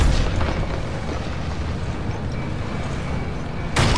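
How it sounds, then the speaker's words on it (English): Tank cannon fire and explosions in the Call of Duty WW2 video game during the retaking of Paris, a sustained booming rumble of blasts with a fresh loud burst at the end. "German armor shooting us from behind!"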